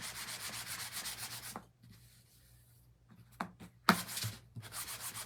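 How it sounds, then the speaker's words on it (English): Rhythmic scraping strokes of a sanding block on wood, several quick rubs, a pause, then a few more strokes resuming close by. "you can see on my sanding block"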